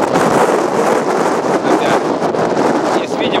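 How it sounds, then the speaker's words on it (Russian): Wind blowing outdoors buffets the microphone in a continuous loud rush with gusty surges, steady throughout with some talk mixed in. "Поэтому последний день снимаем с ветром."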